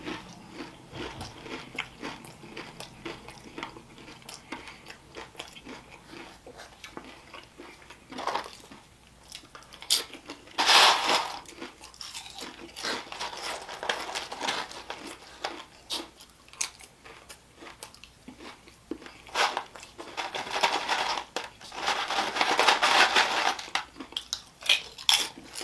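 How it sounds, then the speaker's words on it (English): Crunchy Taco Bell nachos being bitten and chewed up close, with loud bursts of crunching that come and go over about 25 seconds and no talking. "There's no cute way to eat nachos like this."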